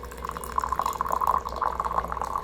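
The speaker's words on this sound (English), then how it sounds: "So I'm going to actually rinse this pot of tea" Water running from a tap to rinse out a teapot of tea, a quick, steady splashing stream lasting a few seconds at close range with no talking.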